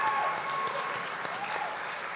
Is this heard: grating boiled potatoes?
no